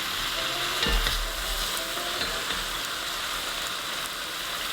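Oxtail coated in browning sugar sizzles loudly and steadily in a Le Creuset pot, a dense continuous crackle with a low thump near the start and no voices.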